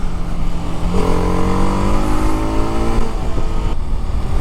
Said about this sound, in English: this is such an extremely fun motorcycle.